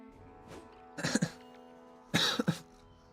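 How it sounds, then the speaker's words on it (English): A person coughs in two short, harsh bursts about a second apart, close to the microphone in a quiet room, with a few faint soft sounds in between. "Excuse my coughing."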